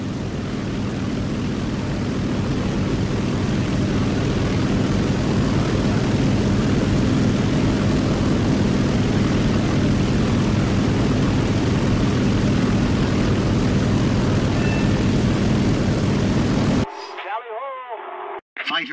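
A steady, loud propeller aircraft engine in War Thunder drones continuously for most of the clip, then cuts out abruptly near the end, leaving brief quieter sounds.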